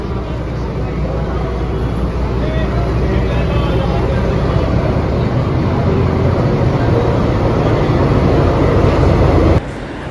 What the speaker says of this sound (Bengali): আর আমাদের ট্রেন ঢুকে গেছে হাওড়া স্টেশন থেকে।